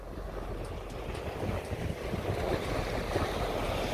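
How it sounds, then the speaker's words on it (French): Wind rushes steadily across the microphone beside the sea, a continuous buffeting roar with the wash of waves underneath and no voices. "Bon, pardonnez-nous pour le vent hein."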